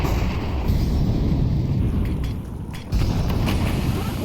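A molotov fire burns in Counter-Strike during an ESL Impact match, a steady loud roaring crackle of flames that holds throughout, dips briefly and then returns at full strength.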